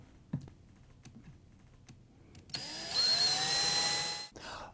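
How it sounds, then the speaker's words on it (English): An electric drill fitted with a large cutter bores into scrap wood, starting after a few faint clicks and taps and running as a loud, steady whine for about two seconds before stopping. "I've loaded the largest cutter into the drill bit, or into the drill first, and I'm just going to start cutting these out"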